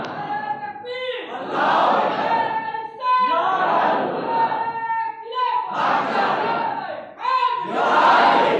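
A gathered audience at a religious gathering honoring Imam Abu Hanifa chants a slogan in loud, rhythmic call-and-response rounds, a leading voice followed by many voices answering together, repeating about four times.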